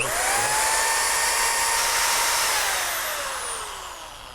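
A small power tool spinning lines at 2,400 RPM gives a loud, steady high whine that holds, then slowly fades as it winds down.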